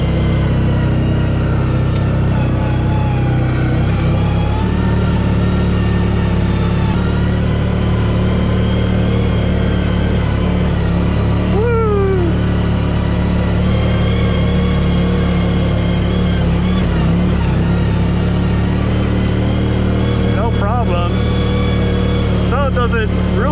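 CFMoto ZForce side-by-side engine working hard up a steep, tight trail, a loud steady drone with rising revs, heard close throughout under occasional talking.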